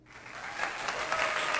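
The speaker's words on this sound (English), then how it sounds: "do I hear the applause?" A short burst of clapping that swells from quiet to a steady patter, close and fairly dense, like one person or a small group clapping.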